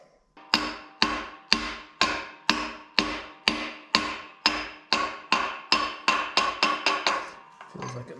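Sharp metallic hammer blows driving a seal into a Ford 9-inch axle housing, about sixteen strikes in a steady rhythm that speeds up toward the end, close and loud with ringing decay.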